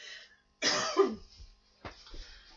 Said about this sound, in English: Ignore the cough.